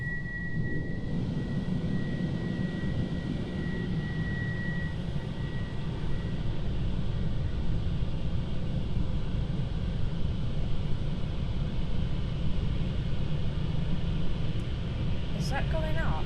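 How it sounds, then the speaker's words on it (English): Car wash blower drying a car from inside the vehicle: a steady, loud broadband roar that holds constant throughout, with people talking inside the car. "Now we're going to put the blower on, and it does make noise when it comes to the seatbelt bit"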